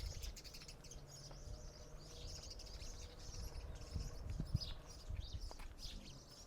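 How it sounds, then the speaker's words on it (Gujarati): A flock of small birds, including sparrows, chirps and twitters continuously around birdhouses set up outdoors, a steady, fairly faint chorus of overlapping calls with no talking. "પક્ષીઓનો કોલાહલ જે તમે અત્યારે સાંભળી રહ્યા છો"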